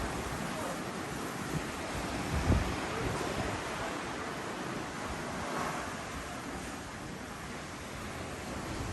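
Ocean surf heard from a beachfront condo terrace in Sosua, Dominican Republic: a steady, broad wash of waves mixed with wind noise, with one slightly louder swell, and no talking.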